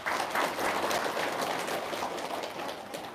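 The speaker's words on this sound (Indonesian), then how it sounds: "Tepuk tangan dong" A gathered audience at a religious enlightenment talk claps on request, a dense, even patter of many hands, fairly soft and continuous throughout.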